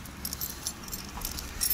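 A bunch of keys jangles in short metallic bursts, close and fairly quiet over a low rumble, with irregular clinks scattered throughout.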